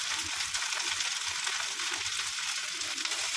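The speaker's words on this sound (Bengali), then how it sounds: "এবার আমি এই পেঁয়াজের সঙ্গে ভেজে নেবো" Dried fish frying with onions in a pan gives a constant close sizzle, a bright hiss with faint stirring scrapes underneath, steady from start to end.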